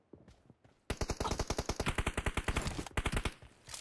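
Rapid automatic gunfire in the mobile game PUBG Mobile: a soft shot or two, then a fast, loud, evenly paced burst of several dozen rounds lasting nearly three seconds, with no talking.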